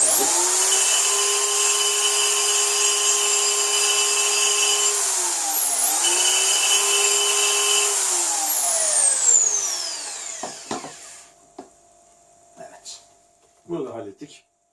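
A high-pitched power drill whines steadily while boring into steel, pauses, spins up again and winds down, followed by a few clunks and handling knocks.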